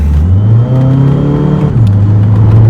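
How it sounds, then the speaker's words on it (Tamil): A tuned Stage 5 custom-turbo 2.0-litre diesel Skoda Laura revs hard in first gear, its loud, close exhaust note climbing steadily in pitch, then dropping sharply before holding a lower drone, with no talking. "எக்ஸாஸ்ட் நோட் வெறித்தனமாக கேட்குது."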